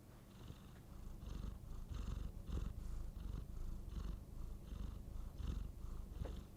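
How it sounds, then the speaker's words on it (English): A cat purrs steadily up close, its low rumbling rising and falling in a slow, even rhythm. "Let's see if the mic picks up his purring."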